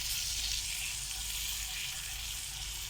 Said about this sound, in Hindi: बस हल्का सा इसको सौते करना है।